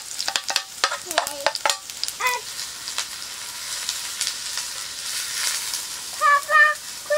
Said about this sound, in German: bis das Öl heiß ist und dann machen wir die Zwiebeln rein